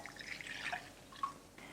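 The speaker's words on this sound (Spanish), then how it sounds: "Añadimos el agua templada" Warm water trickles and drips onto dry yeast in a bowl while making panettone, faint and close, with a few distinct liquid plinks.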